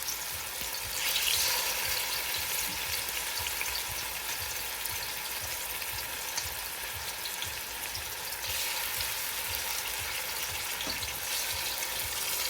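Curry goat simmering in a pot on the stove, a steady soft bubbling sizzle that runs unbroken throughout with no talking, set for a long slow cook.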